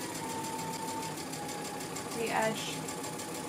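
A sewing machine stitches along the edge of a pleated fabric mask with a steady, even mechanical hum and a soft whine that swells briefly, while a person speaks over it.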